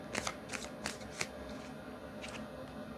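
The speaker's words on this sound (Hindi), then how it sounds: "मैं कुछ और कार्ड्स निकालूंगी" A deck of tarot cards being shuffled by hand, heard close up as a quick run of crisp riffling flutters followed by softer, quieter card sliding.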